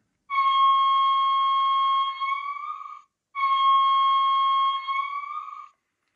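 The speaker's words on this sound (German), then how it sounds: "die F7, die sogenannte Sirene" Two long electronic siren wails from a Märklin 39777 rail zeppelin model train sound function, each a steady tone bending upward at the end, separated by a short pause; loud and clean with nothing else.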